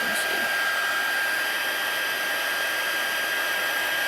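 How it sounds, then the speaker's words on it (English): A heat embossing tool on its higher setting blows hot air in a steady, loud, continuous whoosh that holds unchanged from start to finish, with no other sounds. "The second setting, the higher one, is for heat embossing."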